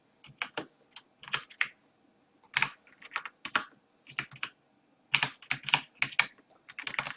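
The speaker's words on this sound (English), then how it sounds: "I'll try to type as light as possible." Light typing on a computer keyboard while writing JavaScript code, quiet close key clicks coming in short irregular bursts with brief pauses, no talk.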